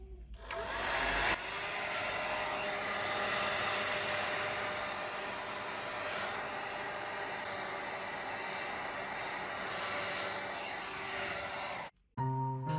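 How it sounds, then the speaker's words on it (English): A heat gun or hairdryer blowing hot air onto the back glass panel of a Google Pixel 4 phone makes a loud, steady whooshing roar that runs nearly unbroken, then cuts out briefly before starting again. "Use a heat gun or hairdryer to heat up the surface of the back panel."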